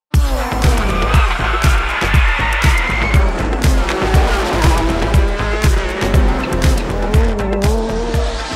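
Toyota 503E 2.1-liter turbocharged racing engine in a race car, loud and close, with rapid rhythmic firing pulses, shifting revs and tire squeal, continuous throughout.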